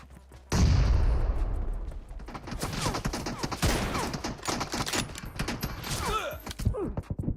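Gunfire in the PUBG Mobile video game opens with a loud, heavy blast, followed by dense, rapid volleys of shots and mechanical clatter that keep firing throughout.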